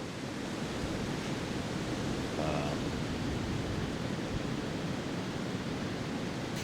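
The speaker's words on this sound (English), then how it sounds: "right now we got to deal with wind" Steady wind roars across the microphone with a constant broadband rush, no voices, unchanging throughout.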